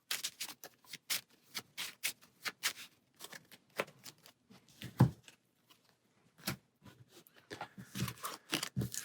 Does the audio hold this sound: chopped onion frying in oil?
no